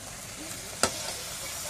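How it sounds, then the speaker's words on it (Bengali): Vegetables fry with tomato and ginger for dal khichdi, giving a steady, soft hiss with one sharp click midway. "সবজি সব কিছু দিয়ে এটা ফ্রাই হচ্ছে এখন"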